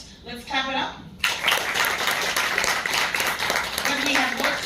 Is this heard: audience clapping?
yes